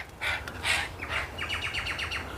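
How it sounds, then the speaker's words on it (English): Wattlebirds call outdoors during a bream fishing session, a series of harsh, scratchy chirps and rapid repeated notes, fairly close and loud against a low background hum. "Wattle birds, noisy buggers they are."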